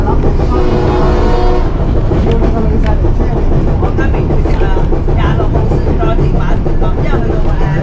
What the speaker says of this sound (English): And a train whistle.